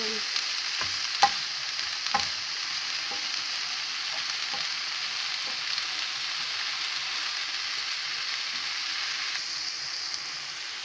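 Vegetables for Ilocano lumpia sizzle steadily in a pan while a utensil stirs them, with a few sharp scrapes and clinks near the start, close and continuous.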